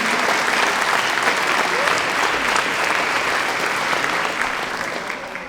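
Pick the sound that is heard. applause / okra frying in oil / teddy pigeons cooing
applause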